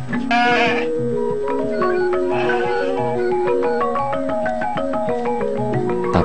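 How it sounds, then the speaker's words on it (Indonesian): Garut sheep bleat at a farm in Sleman, Yogyakarta, in several long, wavering calls that overlap and follow one after another, fairly close, under sustained background music. "domba Garut ini"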